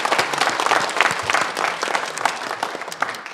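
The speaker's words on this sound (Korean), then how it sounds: "우리 축복하면서 박수 한번 합시다" A church congregation at an Easter Sunday service claps together in a brief, lively burst of applause, many hands close and loud throughout, with no speech over it.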